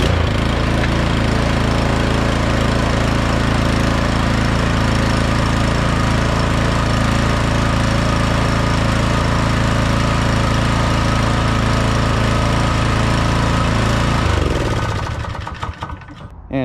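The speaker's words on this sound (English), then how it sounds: "you can start your engine again just to get kind of an idea" A small lawn mower engine runs steadily after a fresh oil change, a loud, close, continuous drone with a rough mechanical hum, until it cuts off abruptly near the end.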